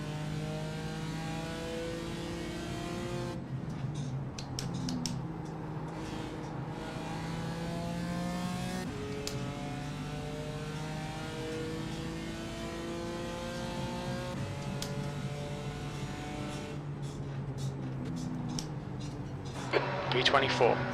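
A GT4 race car in iRacing, the sim racing game, laps Brands Hatch with a steady, droning engine note that rises and falls through gear changes, continuous and close, with someone talking over it.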